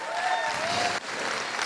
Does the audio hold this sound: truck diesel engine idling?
no